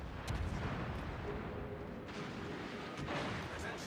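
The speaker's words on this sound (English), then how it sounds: "this is why you can see these secondaries going off from this Brandenburg" Secondary guns on the Brandenburg battleship fire in a naval video game, a continuous distant rumble of artillery with muffled booms layered over a dense roar.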